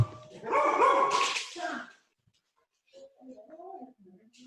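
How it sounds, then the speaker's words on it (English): Several dogs bark at a UPS delivery person at the door, a loud burst of close, overlapping barks and yips, a brief pause, then quieter whines and yelps. "UPS showed up and the dogs needed to greet him"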